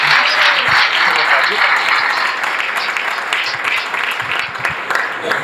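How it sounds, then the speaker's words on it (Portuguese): A church congregation claps to welcome the reverend, loud close applause that is strongest at first and gradually thins, with scattered voices mixed in. "Vamos aplaudir mais uma vez,"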